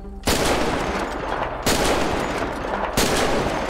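Gunfire from shooters in GTA 5, loud and close, comes as three heavy bursts of rapid automatic shots about every second and a half, nearly filling the clip, with no talking.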